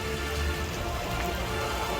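Heavy monsoon rain pours steadily in Banaskantha, Gujarat, making a dense, even hiss of drops on surfaces with no break and no voices.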